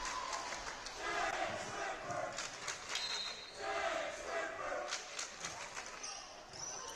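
A crowd cheers and shouts in a gym at a high school volleyball match, a broad, lively roar of voices rising and falling steadily, with a commentator talking over it.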